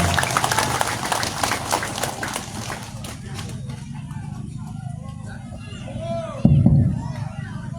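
A crowd claps and cheers to welcome the East Sumba regent at an outdoor political rally, a dense burst of applause that fades out as a voice starts talking over the loudspeaker.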